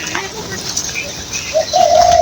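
Pigeons cooing while eating from a person's hand, a soft murmur joined near the end by a louder sustained coo, close by over a busy background.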